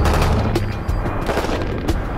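Full-auto machine gun fire cycling at around 750 rounds per minute with heavy cartridges, a dense continuous rattle of shots and booms, loud and close, with no talk over it.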